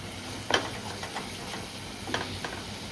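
Ground spices sautéing in a pan for a vegetarian paneer dish, a soft continuous sizzle with two brief scraping stirs, close and quiet, no speech.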